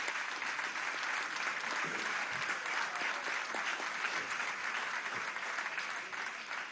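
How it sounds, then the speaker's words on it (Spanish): A large crowd at a Venezuelan government political event with President Maduro breaks into sustained applause, a thick, continuous roar of clapping that stays loud and even throughout, with no speech over it. "Vamos a darle un aplauso al Movimiento Somos Venezuela"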